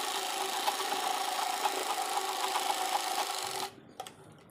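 A sewing machine stitches a seam on a dhoti salwar, a continuous close whirring rattle for several seconds that then stops abruptly, leaving a few quiet clicks of handling.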